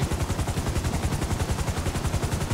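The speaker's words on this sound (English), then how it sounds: "I'm shooting at you, okay?" Rapid gunfire in GTA V rattles in a steady, fast rhythm of repeated shots, loud and close, with no talking over it.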